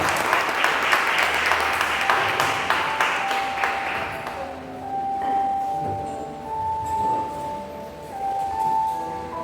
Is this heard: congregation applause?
yes